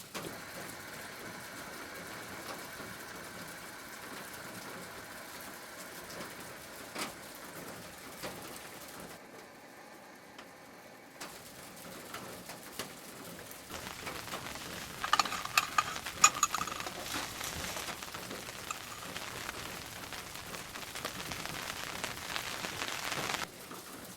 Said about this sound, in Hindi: ये फुल बाहर बारिश हो रही है